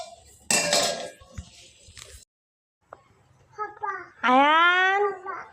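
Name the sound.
pots and dishes clinking while cooking khichuri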